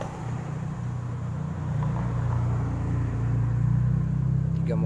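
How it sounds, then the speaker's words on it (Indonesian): Several police patrol cars pass at night, a steady low engine and road rumble building slightly louder toward the end, with no voices. "Tiga mobil patroli polisi."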